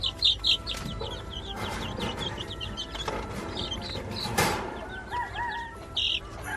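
A flock of labuyo wild chickens and Rhode Island chickens clucks and chirps nearby, with bursts of wing flapping breaking in irregularly among high peeping calls; no one speaks.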